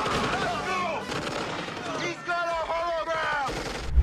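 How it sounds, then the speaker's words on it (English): Dense, continuous gunfire from a film scene, rapid overlapping shots and booming impacts layered with shouting voices and musical tones, loud and busy throughout. "somehow bullets weren't flying through the Arnold hologram."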